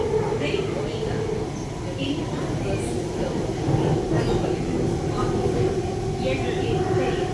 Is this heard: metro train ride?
yes